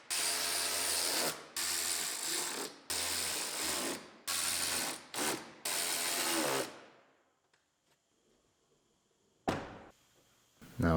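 Power driver sending screws into wheel opening moldings on a 2018 Ford Explorer Limited AWD, several loud close whirring bursts back to back, then quiet with a final short burst.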